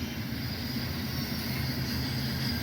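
A steady low rumble of a passing train in Flagstaff, Arizona, with constant broadband noise, continuous and fairly loud throughout, no voices.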